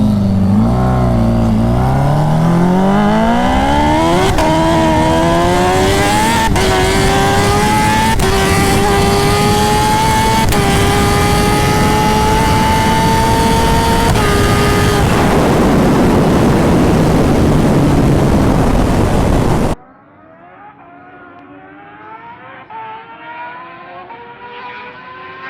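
A 500whp turbo Kawasaki ZX14R launches in a half-mile race, its engine screaming loud and close as it climbs through the gears with sharp shift breaks, then cutting off abruptly to leave faint distant engine noise.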